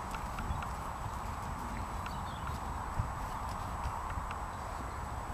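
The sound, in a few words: herd of horses walking, hooves clip-clopping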